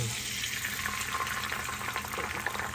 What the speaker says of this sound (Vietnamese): Mình chiên trứng như cái kiểu bánh xèo